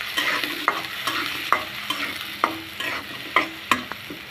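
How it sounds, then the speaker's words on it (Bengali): Small-cut potatoes and chopped onion fry in a pan, a steady sizzle broken by regular stirring scrapes roughly every half second, close and clear with no talking. "আলু আর পেঁয়াজ একটু ভেজে নিব।"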